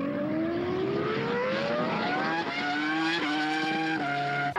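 A Ferrari Formula One car on test laps, its engine screaming close and loud, pitch climbing steadily then stepping through quick gear changes, with no voices.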